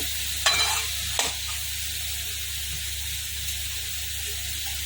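Carrot curry with turmeric being stirred in a pan: a couple of sharp scrapes early on over a soft, steady sizzle and a low background hum, with no talking.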